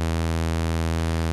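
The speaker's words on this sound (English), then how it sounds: "The saw wave looks and sounds like this." EDU VCO synthesizer oscillator putting out a steady saw wave, a continuous bright buzzing tone rich in harmonics, even and unbroken throughout, with no talking.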